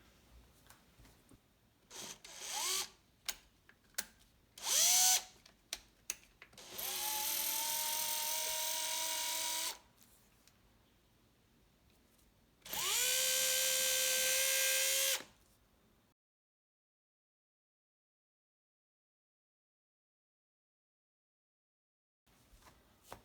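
Power drill boring screw holes into a painted ST-style guitar body, heard as several short revving bursts followed by two longer steady whirring runs, close and loud, then silence.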